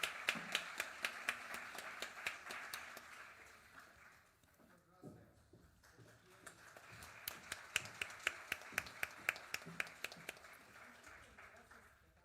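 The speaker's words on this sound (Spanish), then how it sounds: "Un fuerte aplauso para el doctor Arturo David Argente Villarreal." Applause for Dr. Arturo David Argente Villarreal at an event on judicial education in distance learning: faint, crisp claps that dip briefly mid-way, then resume and continue to the end.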